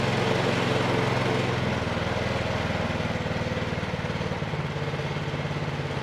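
A Troy-Bilt 2410 snow blower engine runs steadily just after starting, a loud, continuous small-engine drone whose pitch drops slightly partway through as it settles toward idle, with no one talking.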